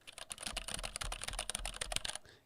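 Rapid typing on a Keychron K8 mechanical computer keyboard: a dense, steady run of clacking keystrokes, close and clear, with no talking.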